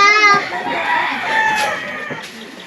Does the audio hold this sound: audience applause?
no